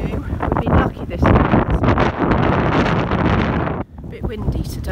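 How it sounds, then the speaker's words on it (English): Gusting wind buffets the microphone on a clifftop walk at Ravenspoint Cliffs, a loud, steady roar with rustling that drops out briefly near the end before returning. "a bit windy today"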